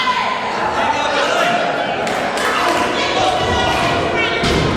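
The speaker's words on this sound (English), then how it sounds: "Elbow right across the shoulder." Heavy thuds of elbow strikes landing in an NWA wrestling ring, a few sharp impacts breaking through steady arena crowd noise and chatter.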